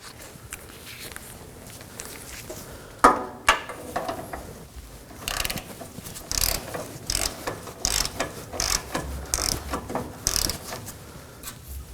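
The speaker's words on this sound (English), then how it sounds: "For this knot and these 3 bolts, they all get torqued down to 65 foot-pounds." A torque wrench ratchets as control arm bolts are tightened on a 2014-2020 Acura MDX, with bursts of clicking mechanical ratcheting and some handling noise in a quiet garage.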